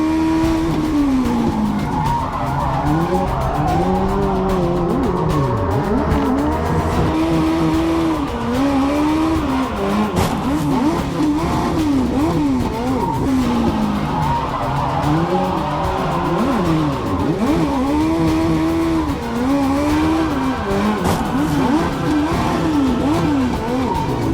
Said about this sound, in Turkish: Hadi bir spin var. Orada bir spin var.